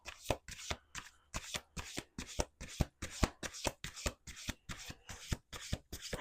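Tarot cards are shuffled by hand in a quick rhythmic series of crisp riffling bursts, about a dozen short ruffles separated by brief pauses, close and clear with no talking.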